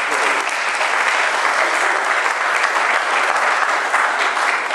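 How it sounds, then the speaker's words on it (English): Continuous applause from a church congregation praising God, dense even hand clapping held at a steady level throughout with no talking. "Give the Lord another hand clap"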